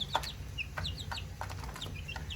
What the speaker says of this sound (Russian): Видите, какой петушок у меня.